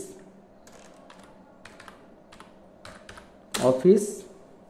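Computer keyboard being typed on, a scatter of light, quick key clicks spaced across the stretch, followed by a short louder burst where a voice speaks.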